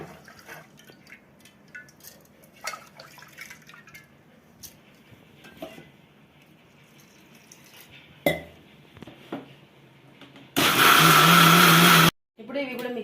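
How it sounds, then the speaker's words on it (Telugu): A mixer grinder runs on rice for watermelon dosa batter, a loud roaring burst of under two seconds near the end, after quieter clinks and handling sounds. "మిక్సీ వేసుకుందాం"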